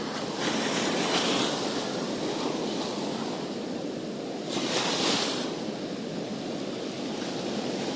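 Ocean waves break and wash at a surfing spot during monsoon season, a continuous roar of surf with two louder crashing swells, heard from nearby with wind over the microphone.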